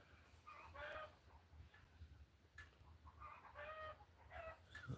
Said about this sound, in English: Just chickens making chicken noises.